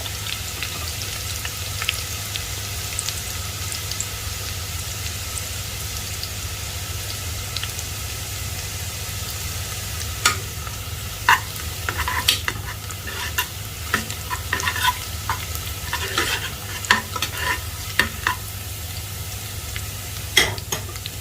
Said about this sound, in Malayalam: എല്ലാം കൂടി നല്ല രീതിയിൽ ഇളക്കി കൊടുക്കുക